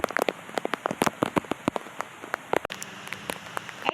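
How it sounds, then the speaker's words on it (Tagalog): Rain patters steadily at a camping ground, with many sharp drops striking a nearby surface, likely a tent, over a continuous hiss of falling water. "Guys, maulan."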